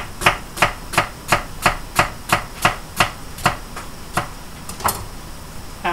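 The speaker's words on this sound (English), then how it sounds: "Okay, so we're just going to lightly chop this." A knife chops vegetables on a board in about a dozen crisp, evenly spaced taps at roughly two per second, close and clear, then slows to a few scattered knocks, with no talking.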